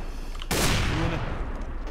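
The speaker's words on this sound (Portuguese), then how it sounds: "Chovem balas de cima." Gunfire in the video game CS:GO, a sudden loud burst that starts about halfway through and then rings on as a dense, sustained crackle of shots with no voices over it.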